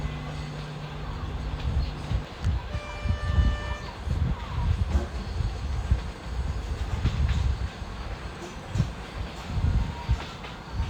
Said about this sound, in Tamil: இது நீங்கள் பார்க்குறது டாய் ட்ரெயினு. அந்த மியூசியம் உள்ளார அந்த ட்ரெயினு உள்ளே ஓடிக்கிட்டு இருக்கு.